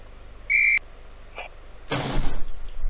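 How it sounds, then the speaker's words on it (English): A short shrill whistle, a faint knock, then a broad noisy thud of a cat slamming a door shut in a children's video game, with rumbling afterward. "It's the cat slamming the door."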